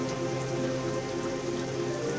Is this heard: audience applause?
no